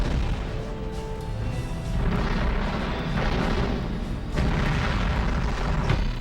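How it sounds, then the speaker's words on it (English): Long-range mortar fire in the video game Line of Contact rumbles in continuous dense booms and crashes, loud and layered throughout with no gaps. "Watch out for those long-range mortars"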